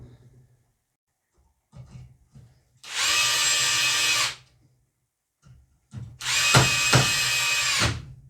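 A power drill with a bit holder drives screws in two sustained high whirring bursts, each about a second and a half long, separated by quieter handling noises.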